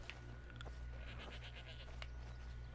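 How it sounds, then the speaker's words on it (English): A goat bleats in the video game Skyrim: a faint, distant, wavering cry heard briefly against a quiet low background hum. "I hear a goat."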